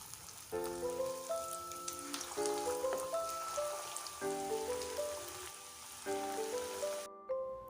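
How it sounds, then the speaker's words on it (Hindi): Stuffed mushrooms deep frying in medium-hot oil make a soft, steady sizzle and crackle, quiet under a repeating melodic music track that cuts out near the end. "अब हम इन्हें डीप फ्राई करेंगे। इसके लिए तेल को बहुत गर्म नहीं रखना है, मीडियम हॉट ऑयल होना चाहिए। चलिए इसे फ्राई करते हैं।"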